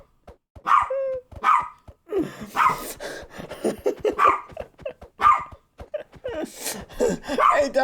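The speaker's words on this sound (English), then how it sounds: "don't tell her to stop barking" A dog barks in short, loud, close bursts at irregular intervals, with a few whimpering and growling tones between them and people talking nearby.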